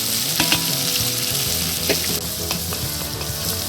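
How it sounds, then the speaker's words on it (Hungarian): Onion sizzles and fries in a cast iron pot for beef with tarhonya, a dense steady crackle with sharper pops scattered through, close and loud, no voices. "Kicsit kipattog, majd jön bele a hagyma."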